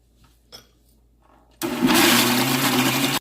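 A mixer grinder starts abruptly after a quiet moment and runs loudly with a steady, harsh whirring drone while grinding.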